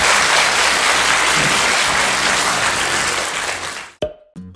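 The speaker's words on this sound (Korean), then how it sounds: "박수 한번 주시기 바랍니다." Audience applause at a talk: a dense, loud, continuous wash of many hands clapping for about four seconds, then cutting off abruptly into near silence with a couple of faint thumps.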